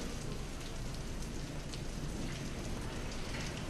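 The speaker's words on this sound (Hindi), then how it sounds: "मेरठ में खूब बारिश हुई, जिससे लोगों को गर्मी से राहत मिली।" Heavy monsoon rain pouring down in Meerut, a dense, continuous hiss of drops hitting surfaces, loud and close with no pauses, no voices heard.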